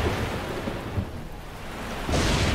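A lightning strike effect in the tactical video game Into the Breach: a rumbling, noisy wash that dips briefly, then returns as a loud, bright crackling burst near the end.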